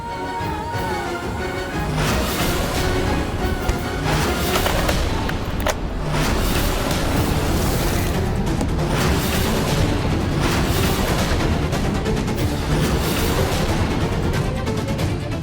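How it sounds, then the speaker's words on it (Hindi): Dense, continuous volleys of booming gunfire and blasts from a Hindi TV serial scene fill the whole stretch, loud and relentless with no pauses and no voices. "ये अचानक गोलियों की आवाज कैसे आ गई?"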